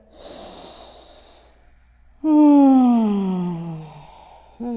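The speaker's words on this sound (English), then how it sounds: "One more wholesome breath here." A deep breath during a yoga flow: a long airy inhale, then a voiced, sighing exhale that slowly falls in pitch, close and loud, with the start of another breath at the end.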